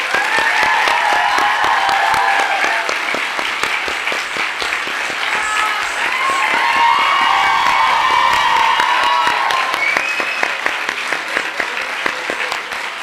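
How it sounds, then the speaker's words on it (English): Large audience at a Bharatanatyam arangetram dance debut in Birmingham, UK, gives loud, sustained applause with dense clapping, cheers and whoops, steady for the whole stretch. "So please give her a big round of applause for that"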